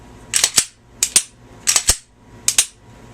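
Glock 22 Gen2 pistol fitted with a .357 SIG barrel, its trigger and action giving four pairs of sharp, close metallic clicks at a steady rhythm, with no talking.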